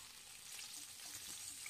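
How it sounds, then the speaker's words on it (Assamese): Fish pieces fry in a pan for a village-style masala fish curry, giving a steady, even hiss of sizzling oil that is faint and continuous with no voices. "এনেদৰে মাছ কেইপিচ মই ভাজি ল'লোঁ।"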